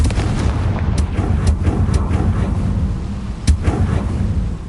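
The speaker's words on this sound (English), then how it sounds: "Confringo!" Confringo blasting spell from the game Hogwarts Legacy, a dense rumbling barrage of booming blasts with sharp cracks standing out, loud and continuous; no talk.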